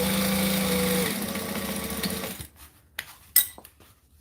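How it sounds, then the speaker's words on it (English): A sewing machine chain-sewing a batch of order pieces, running in a fast steady whirr for about two seconds, then stopping, followed by a few sharp clicks and taps as the work is handled nearby. "I'm sewing in batches of 2, so I can literally chain sew the lot of them"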